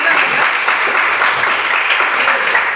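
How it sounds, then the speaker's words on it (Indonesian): A classroom of students claps together in steady, dense applause, close and loud throughout with no pauses, a faint voice barely present underneath. "Tepuk tangan untuk kalian semua."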